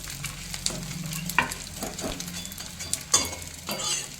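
Edible gum (gond) frying in a pan of hot oil, a bubbling sizzle with repeated scraping stirs and light clinks from the spoon, close up and without speech.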